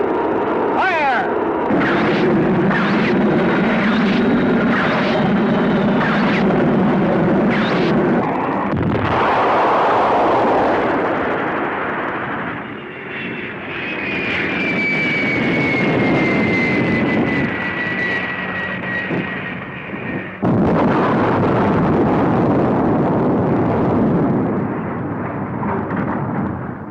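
An airplane engine roars overhead amid heavy booming blasts and gunfire in a 1965 Gamera monster film, loud and chaotic, with shifting engine whines and abrupt cuts between bursts.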